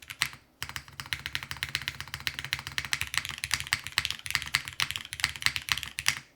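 Rapid, steady keystrokes on a Rin60 custom mechanical keyboard after a hot-swap fix, a dense clicky-thocky stream of typing that starts after a brief pause and runs on without speech.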